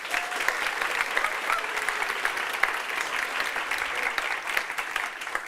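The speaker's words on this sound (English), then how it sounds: "Can you clap?" An audience claps together in a practice vote at a climate and health event, a dense, steady applause held for several seconds with no voices over it.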